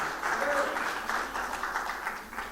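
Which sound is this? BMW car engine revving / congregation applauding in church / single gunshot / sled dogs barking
congregation applauding in church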